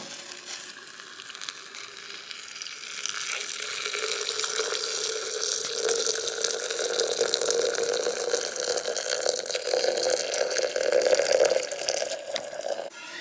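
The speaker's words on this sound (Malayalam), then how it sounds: "നമ്മളിവിടെ തിളച്ച വെള്ളമാണ് എടുത്തിട്ടുള്ളത് അപ്പോൾ ഈ ഫ്ലവേഴ്സിൻ്റെ മുകളിൽ കൂടി നമുക്കിങ്ങനെ ഒഴിക്കാം" Steady hissing rush of boiling water being poured over hibiscus flowers, building slightly in intensity over several seconds, with no voices.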